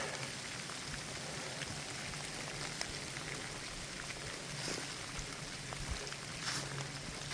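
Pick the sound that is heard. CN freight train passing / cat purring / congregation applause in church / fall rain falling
fall rain falling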